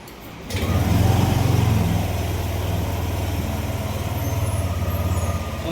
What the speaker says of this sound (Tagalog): Ngayon, susubukan kong paandarin itong motor.